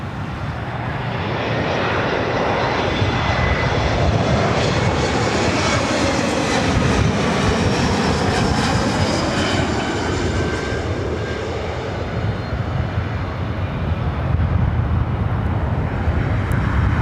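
A jet airliner at LAX passing loud and close, its engine roar swelling and sweeping in pitch as it goes by, then holding strong to the end, with no voices.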